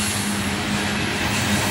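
A CSX grain freight train led by three AC44 locomotives pulling into a siding, a loud continuous rumble with a faint steady whine, heard up close with no talking.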